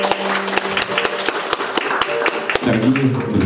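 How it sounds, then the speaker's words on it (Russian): Wedding guests at an outdoor ceremony clapping, sharp distinct claps in a loose rhythm that thin out and give way to a voice and music near the end. "Начало выездной церемонии, аплодисментами."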